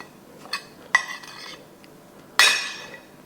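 Spice rub of garlic powder, chili pepper and oregano stirred in a bowl, heard as a few sharp clinks and scrapes of a utensil against the dish, separated by quiet gaps.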